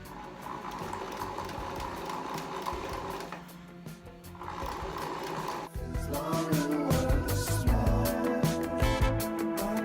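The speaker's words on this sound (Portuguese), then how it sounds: "Coloca o pé da máquina alinhado com o fim do tecido e aí manda ver." A sewing machine stitches fabric for a bookmark, its needle chattering in a rapid steady rhythm close by, pausing briefly near the middle and then resuming faster and louder.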